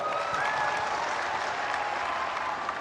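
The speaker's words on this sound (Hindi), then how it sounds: "हो जाए ताली आज" Steady, dense applause from a large audience at a Prime Minister Modi event in Assam, continuous clapping at even loudness throughout with no talk over it.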